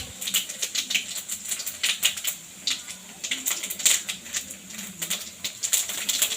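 Mustard seeds and fenugreek popping and spluttering in hot oil for Chettinad sambar, a quick irregular patter of small crackles close by with no talk.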